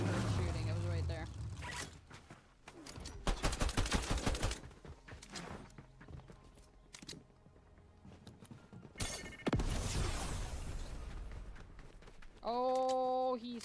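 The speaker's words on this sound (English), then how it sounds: "You heard shooting." Video game gunfire: scattered bursts of rapid shots, some loud and close, others fainter, separated by quieter gaps, with someone talking over parts and a tonal game sound near the end.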